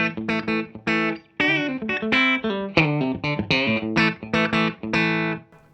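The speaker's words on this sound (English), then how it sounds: "I go straight down to the bridge pickup." A Fender Player Series Stratocaster on its bridge pickup through a clean Deluxe Reverb amp plays a lively run of bright, twangy clean chords and picked notes in a steady, rhythmic pattern with no talking.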